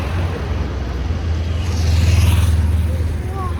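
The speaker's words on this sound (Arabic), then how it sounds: "هذا موتور كبير،" A large motor engine running nearby outdoors, a steady low droning rumble that swells slightly in the middle, with someone talking over it.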